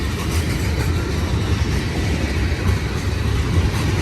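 Heavy manifest freight train with Santa Fe Warbonnet 686 and BNSF 3039 GP40X locomotives as distributed power rolling past, a steady loud broadband rumble of wheels and cars with no break.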